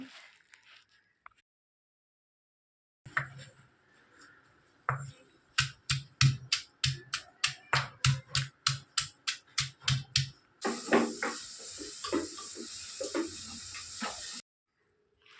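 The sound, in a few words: peeling onions by hand for prawn curry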